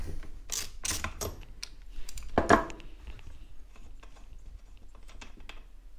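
A ratchet with a 3/4 inch socket works a spark plug loose on a Craftsman 16 inch chainsaw, giving quiet, close, irregular clicks and ticks with one sharper crack partway through.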